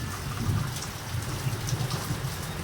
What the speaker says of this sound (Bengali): দেখুন আওয়াজটা নিশ্চয়ই পাচ্ছেন ভালো জোর বৃষ্টি হয়েছে প্রচুর বৃষ্টি হচ্ছে